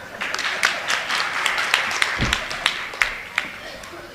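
An audience claps at a speech, sparse and uneven, with sharp individual claps standing out over a light patter, continuing steadily at moderate loudness.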